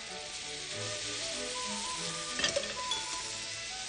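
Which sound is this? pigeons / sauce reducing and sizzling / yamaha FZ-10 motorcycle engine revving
sauce reducing and sizzling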